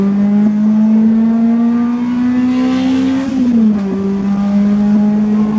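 A car engine revs hard and steadily for several seconds, its pitch climbing slowly and then dropping back after a brief dip, loud and close with no talking.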